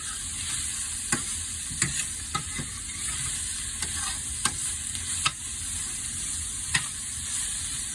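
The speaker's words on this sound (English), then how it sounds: "Just lightly stir fry it in the pan" Vegetables stir-fry in a pan for a vegan, gluten-free meal, giving a steady bright sizzle with sharp spatula scrapes and taps against the pan at irregular intervals, close and continuous without talk.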